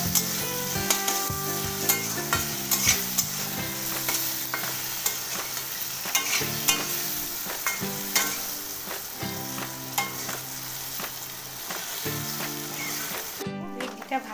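Okra being stirred with salt and turmeric in a hot frying pan gives steady scraping and soft sizzling for the whole stretch, with tonal background music running underneath.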